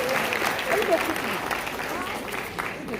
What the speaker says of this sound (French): Acclamez plus fort pour lui.